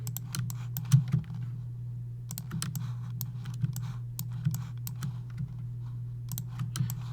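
Computer keyboard keys click in scattered bursts and short runs of taps over a steady low electrical hum, close and fairly quiet.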